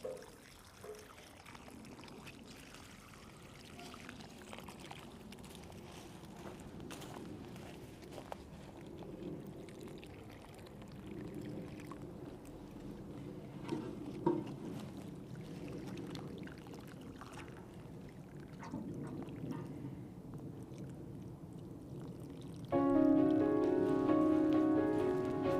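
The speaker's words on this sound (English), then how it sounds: "Let me water these in." Water pours and patters onto newly planted spring flowers in large concrete pots, a steady soft splashing that continues for a long stretch outdoors, growing louder and more pronounced near the end.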